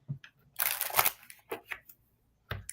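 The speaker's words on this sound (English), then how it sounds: "I'm going to shuffle my tarot cards" Tarot cards are shuffled by hand in a few close, riffling bursts with brief pauses between them.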